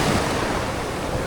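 Sea waves heard from aboard a boat out on the water, a steady broadband wash of surf and rushing water with some wind noise, continuous and loud throughout, no voices.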